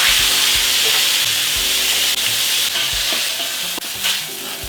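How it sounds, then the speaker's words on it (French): Broccoli and onions fry in a hot wok with a loud, steady sizzle and hiss, broken by scraping stir strokes and occasional clatter, with no voices. "Le wok est chaud, les brocolis, les oignons dans le wok."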